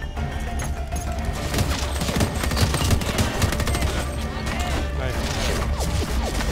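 An enemy turret fires in the video game Homefront The Revolution, a steady fusillade of rapid machine-gun bursts and booms that continues throughout, with players talking over the gunfire.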